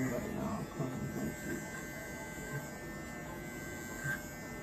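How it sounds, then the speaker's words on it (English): An Andis T-Outliner hair trimmer cutting a bald line during a high taper haircut gives off a steady, low electric buzz and hum throughout, with faint bits of handling noise. "grab my Andis T outliner and I'm going to do the ball line"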